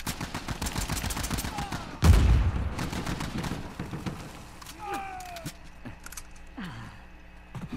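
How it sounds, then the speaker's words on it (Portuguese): Rapid bursts of video game gunfire crack and rattle through the clip, with a sharp louder blast near the start and scattered keyboard-like clicks and fainter shots afterward. "Olha os tiros dele"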